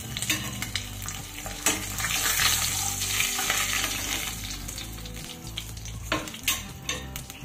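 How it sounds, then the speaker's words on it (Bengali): Katla fish pieces frying in hot oil, a steady close sizzle with occasional clinks and stirring of a pan throughout, no talking. "আর একইভাবে ভেজে নেব।"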